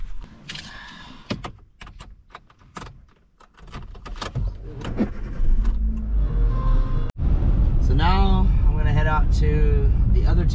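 A rental car is entered, started and driven at an archaeological site parking lot in Mexico: door clunks and handling noises, then a rising engine with a whirring start and steady running, with a person talking at times.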